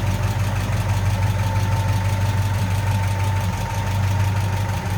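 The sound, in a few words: 1953 Ford F100 pickup flathead engine idling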